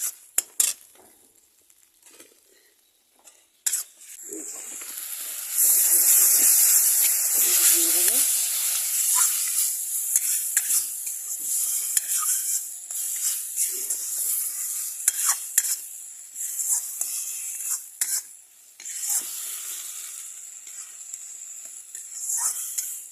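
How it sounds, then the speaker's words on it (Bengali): Dahi aloo cooks in an iron wok with a loud hissing sizzle and repeated scraping and clinking strokes of a spatula. Quieter knocks come first, and a voice speaks now and then. "লোহার কড়াইতে রান্না করতেছি আমি"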